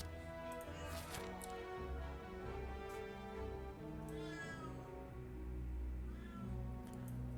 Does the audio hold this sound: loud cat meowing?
yes